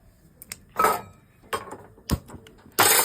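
A metal kadai (wok) lifted and set down on a gas stove, with several sharp clanks and knocks spaced apart, close by and moderately loud.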